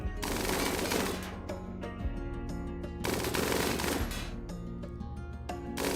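Sustained machine-gun-style gunfire from defensive turrets in the video game RimWorld, a loud, dense rapid-fire clatter running the full length with a few heavier booming hits.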